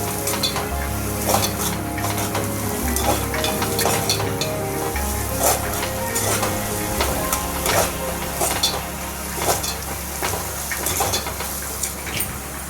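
Cabbage fries in a hot pan while being tossed and stirred, a loud steady sizzle punctuated by repeated scraping and clinks of the utensil against the pan.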